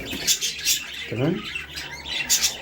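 A hand-fed sparrow chick gives high, faint chirps and squeaks during feeding, repeating in short bursts. Someone speaks quietly nearby amid soft room noise.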